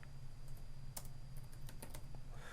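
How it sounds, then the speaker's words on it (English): Computer keyboard keys tapped in a quick, irregular burst of clicks over steady low hum, close and fairly quiet, no talk. "So I'll type in Quicken Loans."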